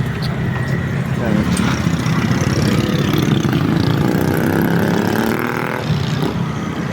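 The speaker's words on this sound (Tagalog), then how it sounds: "ito ay isang four stroke engine. Tapos upgraded na po itong makina niya" An upgraded four-stroke race motorcycle engine of about 200cc idles steadily and close by, a rough low throb that holds through the whole stretch while people talk over it.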